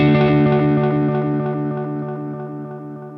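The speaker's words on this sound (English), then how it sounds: "you can hear in its delays, it's almost like a tape echo" Guitar through a vintage Maxon AD-80 analog delay pedal, its sustained chord echoing in repeating, grainy, tape-like decaying repeats that fade gradually, loud and alone with no talking.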